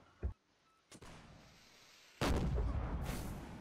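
Cannon artillery fire in a video game: a sharp blast, a second shot, then a loud heavy boom with a long rumbling tail, all without talk.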